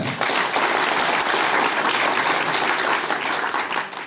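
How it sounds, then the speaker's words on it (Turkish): A party gathering's audience claps for district chair Levent, a full, sustained burst of applause that stays loud and even throughout, with no voices over it. "O zaman Levent Başkan'a bir alkış lütfen."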